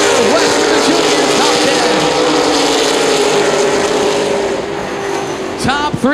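ARCA/CRA Super Series race cars at Columbus Motor Speedway, racing on an oval track: a loud, continuous engine roar from the pack, with a car whining past near the end, under a race commentator's voice.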